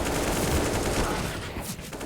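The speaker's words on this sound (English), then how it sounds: "It's a lot of AKs." AK rifle fire in a CS:GO esports match on the Vertigo map, a dense continuous rattle of automatic gunfire from several weapons, loud and close, easing slightly toward the end.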